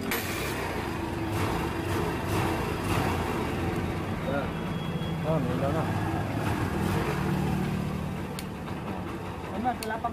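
A motorcycle engine idles steadily with its headlight switched on during a wiring fault check, a moderate, continuous rumble running throughout under a man's speech.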